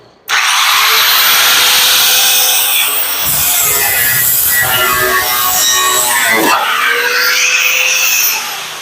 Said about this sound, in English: I got the grinder right here.